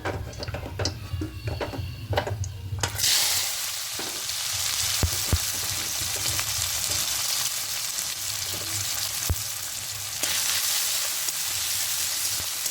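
Chopped onion and tomato fry in oil for potato biryani, a bright steady sizzle with stirring and utensil clicks early on, then a louder, fuller crackle that holds to the end.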